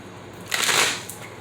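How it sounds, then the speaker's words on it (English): A deck of tarot cards gets one brief riffle shuffle, a quick papery burst lasting about half a second, close and clear against a quiet room. "I'm going to give it one more shuffle."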